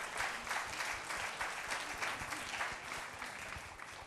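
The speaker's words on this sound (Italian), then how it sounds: "Un applauso per Luciano." A crowd at a Miss World regional beauty pageant final for Lombardy and Piedmont claps steadily, with sustained, evenly loud applause on its own and no voices.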